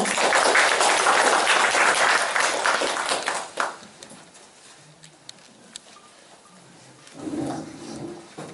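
A lecture audience at a Korean independence-movement history talk claps loudly and densely, then the applause fades after a few seconds into quiet room noise with a brief murmur.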